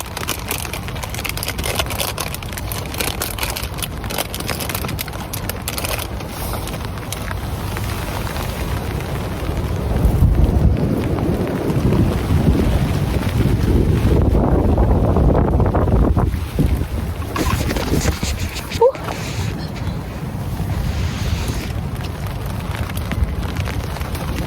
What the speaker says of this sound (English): The rain's getting a wee bit more persistent now.